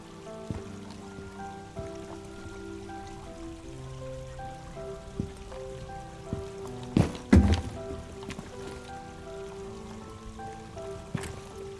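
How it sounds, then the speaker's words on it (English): Water flows gently through a lush video game landscape, running steadily at moderate distance beneath a layer of soft, sustained ambient music, with a brief burst of louder splashing partway through. "take in the sound of the water"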